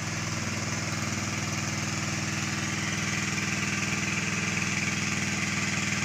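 An engine-driven water pump runs steadily as it starts drawing water from a pond, a close, even motor chug with a rapid mechanical pulse and vibration throughout, no speech.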